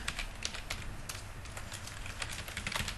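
Typing on a computer keyboard: a steady run of quick, light key clicks, close and fairly faint, continuing throughout with no voices.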